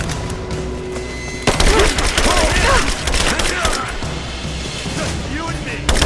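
Rise of the Tomb Raider firefight in abandoned mines: loud rapid volleys of gunfire and impacts erupting after a quieter start, continuing densely with voices shouting over the shooting.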